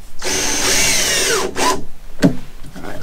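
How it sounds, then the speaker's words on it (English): Power drill driving screws while installing an RV bed lift inside a travel trailer, a loud close whine for over a second, then a short burst and a brief final pulse. "I'm just going to put part of the screws in"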